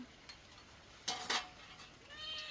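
A cat meows once or twice, short and fairly faint, at a rural home kitchen in Thailand, over a soft background hiss with a light clatter of dishes.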